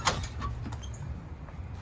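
The front door of a house in Ridley Park is opened with a short, soft clunk and creak, heard close and fairly quiet against a low room hum.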